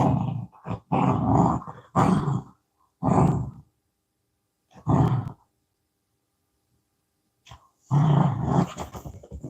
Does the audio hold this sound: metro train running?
no